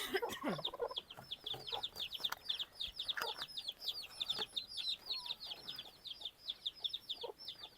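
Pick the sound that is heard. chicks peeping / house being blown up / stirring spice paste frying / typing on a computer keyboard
chicks peeping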